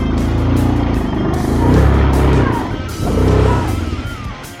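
An ATV crawls along in its slow low-range gear, its engine a loud, steady close-up drone that swells and eases in gentle waves with no voices over it.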